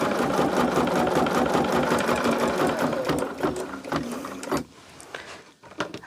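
An embroidery machine stitching a Christmas Santa design runs steadily at close range with a fast, even mechanical chatter of the needle, then slows and winds down near the end.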